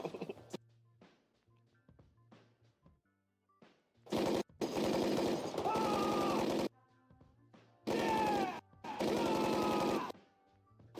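Rapid bursts of gunfire from the film Tropic Thunder, loud automatic volleys in two long clusters separated by quieter gaps, with sharp individual shots scattered before them.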